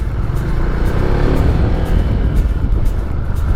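A Honda Vario 160 scooter engine drones steadily while riding through short, tight corners, a loud, close, continuous low-pitched hum with heavy wind rumble and no clear revving peaks.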